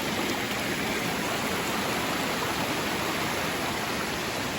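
Waterfall in the Great Smoky Mountains roaring in a steady, dense, close hiss of rushing water, unbroken and alone with no voices.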